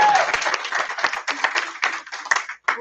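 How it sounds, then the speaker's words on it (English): A crowd at a political campaign kickoff event claps in sustained, dense applause that carries on for a few seconds before briefly dropping out and resuming. "can we get one last round of applause for Ronnie Glynn?"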